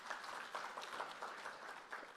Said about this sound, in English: can we clap for the three speakers all together?